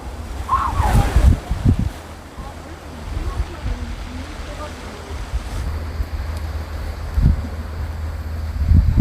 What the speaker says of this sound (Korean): 바람 엄청 많이 분다